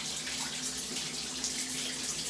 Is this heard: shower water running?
yes